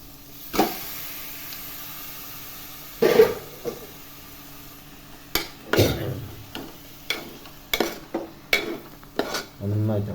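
Green chicken curry with ground chilli being stirred in a pan, heard as a sparse series of sharp spoon scrapes and knocks against the metal over a faint background hiss.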